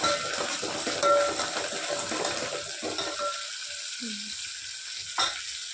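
Cumin seeds frying in hot oil for Maharashtrian dal batti, a steady crackling sizzle with stirring that thins out midway, leaving quieter gaps and a brief clink near the end.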